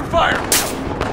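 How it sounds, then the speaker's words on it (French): Sniper rifle fire in the shooter game Battlefield Hardline, a couple of sharp, loud shots a fraction of a second apart amid game noise. "Watch the sniper fire!"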